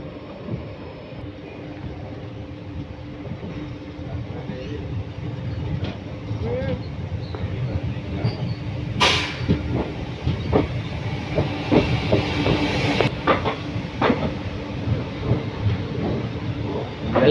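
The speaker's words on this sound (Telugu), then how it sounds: "ప్లాట్ఫామ్లోకి ఎంటర్ అవుతుంది మన ట్రైన్." The Mannai Express rolls into the platform at Mayiladuthurai Junction with a continuous loud rumble and clickety-clack of wheels, interrupted by two sharp hissing bursts of air brakes partway through.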